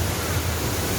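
The Gundicha Ghai waterfall gives off a constant broadband rush of falling water. It is loud and steady, heard from nearby with no voices.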